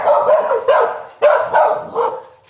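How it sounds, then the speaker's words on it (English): Dogs barking in a concrete-floored farm shed, four or five loud, close woofs in an irregular burst with no talking. "the dogs have been laying in here on the concrete floor all day"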